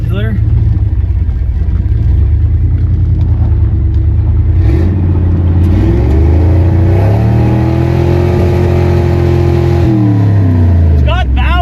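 Engine of a turbocharged Dodge Dakota pickup, a loud, close, continuous rumbling idle that climbs into a sustained rev, holds, then falls back, with people talking over it.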